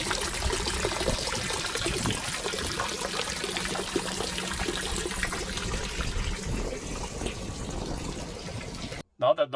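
Water overflowing from a full freshwater tank on a boat, a steady splashing trickle and pour running continuously at close range, ending abruptly.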